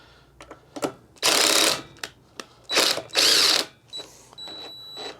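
A tool works Torx screws while the carburetor comes off a seized Poulan Pro leaf blower, giving loud bursts of ratcheting and whirring between sharp clicks and brief pauses, all close by.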